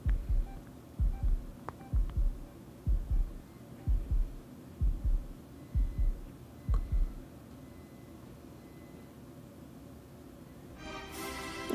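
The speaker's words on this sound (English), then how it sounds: "Heartbeat's getting faster." Deer Simulator heartbeat thumping in paired beats, about nine double thumps that quicken slightly before stopping, loud and low over a soft background hum, ending with a brief bright burst.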